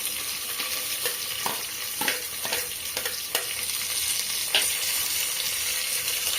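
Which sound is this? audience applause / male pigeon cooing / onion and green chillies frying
onion and green chillies frying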